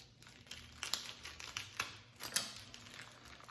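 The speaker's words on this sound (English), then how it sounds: "I can't get in this bag to get this dang sausage out" Crinkling and tearing at a plastic sausage package in a home kitchen, a series of sharp crackles and rustles in uneven bursts, close and fairly quiet.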